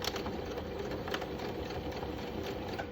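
A sewing machine stitching down a fabric mask, a steady fast mechanical whirr with a rapid needle patter, quiet and close, with no pauses.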